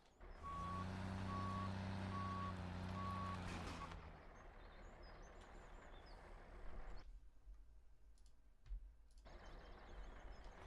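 Reversing alarm of a truck in Farming Simulator 17 beeps steadily about four times in the first few seconds over engine rumble, then the engine idles on alone.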